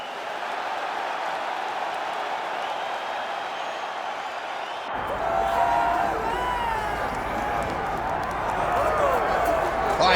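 A UFC arena crowd at a Makhachev vs Della Maddalena fight makes a broad, steady roar that swells partway through and stays loud and rumbling to the end, with scattered shouts and cheers in it.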